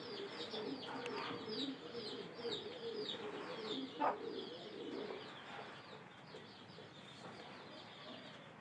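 A pair of pet pigeons coo softly nearby in a loft, low throaty calls repeating under a faint background of chirping.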